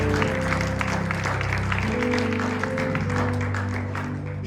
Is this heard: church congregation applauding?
yes